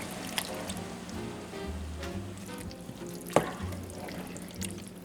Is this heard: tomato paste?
yes